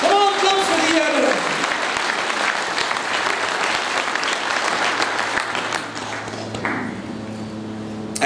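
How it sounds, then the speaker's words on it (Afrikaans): Church congregation applauding during a lively Afrikaans sermon, dense sustained clapping filling the room for most of the stretch, thinning toward the end, with a preacher's voice urging over it. "Klap vir Jesus, kom aan, gee hom eer. Kom aan, klap vir die Here."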